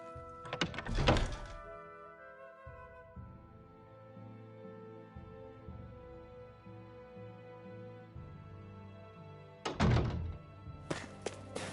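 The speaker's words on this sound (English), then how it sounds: "I always love the sound of hammers banging away." Hammers bang in the game Tales of Arise, with a cluster of sharp, heavy strikes at the start and another burst near the end, set against sustained musical tones in between.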